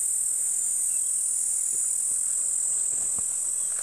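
Male cicadas call on a safari in a loud, unbroken, high-pitched drone that fills the air evenly, with faint ticks and rustles underneath and no talking.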